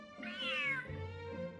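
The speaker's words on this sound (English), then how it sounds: "This big cat just barged in here after Snowball." A big cat in a video game lets out one drawn-out, rising and falling meow, clear and close, with no talking.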